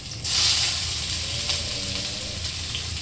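Garlic and curry leaves sizzle steadily in hot oil in a pan for a potato bhaji, a continuous close crackling hiss with no voices.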